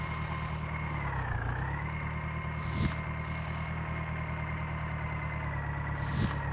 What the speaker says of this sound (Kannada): ಟ್ರ್ಯಾಕ್ಟರ್ ಸೌಂಡು ಭಾರಿ ಇರೋದು ಸ್ನೇಹಿತರೆ.